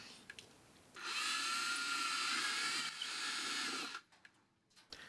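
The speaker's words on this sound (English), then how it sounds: "Drill out the center and into the motor box." A power drill bores into the wooden motor box of a Hangar 9 Hellcat model airplane, a steady whining burst of about three seconds with a brief dip midway, framed by quieter handling noises before and after.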